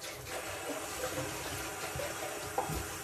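Water runs steadily from a household tap, a soft continuous hiss and splash with no clear breaks and no speech.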